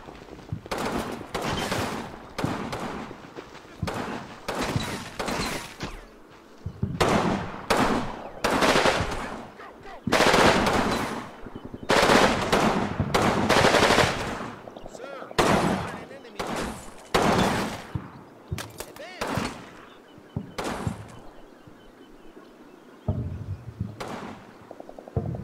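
Rapid bursts of gunfire from troops in Combat Mission: Battle for Normandy, a World War II game set in a town, with repeated loud volleys and machine-gun rattles separated by short pauses.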